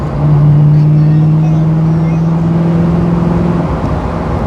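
A Ford Mustang engine hums at steady revs with a strong low drone held for several seconds, then drops away as the gear shifts at about 3,000 rpm, heard from inside the car.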